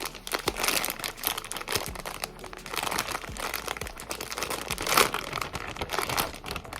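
Steady crinkling and crackling of a sealed plastic bag of washable puppy pads being pulled and torn open, close to the listener, with irregular sharp crunches and no voices.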